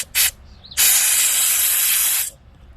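Aerosol carburetor cleaner sprayed onto a small spring from a 2-stroke carburetor: a brief burst of loud hiss, then a long steady spray of about one and a half seconds that cuts off sharply, with no talk.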